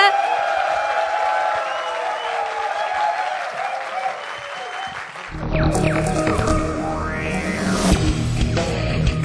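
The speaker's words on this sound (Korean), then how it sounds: "큰 박수 부탁드립니다." An audience at a talk concert on sports marketing breaks into applause, starting under a host's amplified voice and swelling into full, dense clapping over the last few seconds.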